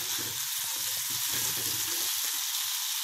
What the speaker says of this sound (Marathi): थोडीशी आपण गॅस वाढवून थोडी करपटून घेऊया.